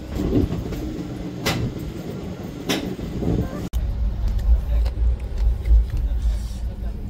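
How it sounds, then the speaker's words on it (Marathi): A passenger train pulls away on the Sambhajinagar to Tirupati route, its low rumble and rattle building steadily close by, with a few sharp clanks and people talking over it. "काहीच फायनली आमची रेल्वे निघाली, धरली. आता धगधग करत धरली."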